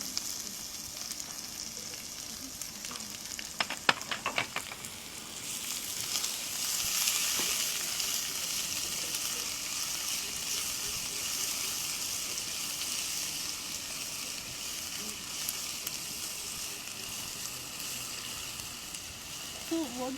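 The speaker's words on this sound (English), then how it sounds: "So make the garlic brown, then I have to add the onion." Garlic sizzles steadily in a hot pan for the whole stretch, with a few brief clinks from a utensil early on and a continuous moderate hiss throughout.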